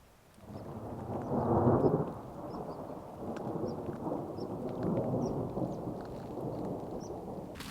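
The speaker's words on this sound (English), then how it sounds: "We got hammered for about 15 minutes with hail, thunder, lightning." Thunderstorm with hail on a mountain backpacking trail, a deep rolling rumble of thunder swelling early, then a steady low roar of falling precipitation with faint scattered ticks.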